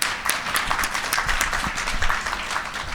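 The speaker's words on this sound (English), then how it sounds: "Please give them a warm round of applause." A conference audience applauds the panelists, dense sustained clapping from a crowd of hands spread through the room, steady for several seconds with a faint voice underneath.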